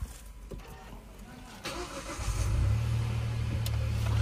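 The 1.0-litre turbo three-cylinder engine of a Hyundai Bayon cranks and fires after a few quiet interior clicks and rustles, then settles into a loud, steady, low idle close by.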